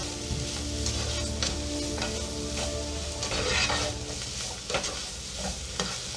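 Shrimp and vegetables with lemon juice are stirred in a sizzling pan, giving continuous close frying hiss with scraping and clattering strokes throughout.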